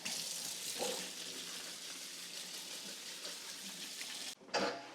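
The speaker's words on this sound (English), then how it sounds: "I need to rinse them now." Tap water runs steadily into a sink while white beans are rinsed, a continuous close hiss with a brief dip and splash near the end.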